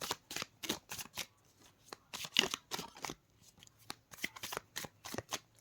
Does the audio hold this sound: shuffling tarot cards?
yes